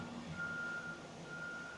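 An OTOFIX D1 Lite OBD scan tool plugged into a Ford sounds a thin, steady electronic beep tone over a quiet background hum.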